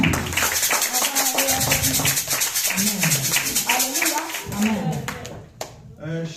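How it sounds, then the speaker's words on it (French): A church congregation applauding the head of communications: steady, rhythmic hand clapping from many people, mixed with voices throughout. "on acclame le responsable de la com"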